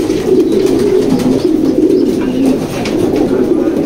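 Pigeons in a loft coo in low, continuous, overlapping murmurs, close and fairly loud, with no talking.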